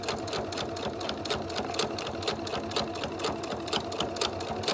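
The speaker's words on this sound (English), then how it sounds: "we're just going to go ahead and sew along this edge to seal up our face mask" A sewing machine runs fast along the edge of a fabric face mask, making a close, continuous rapid clatter of needle strokes with no talk over it.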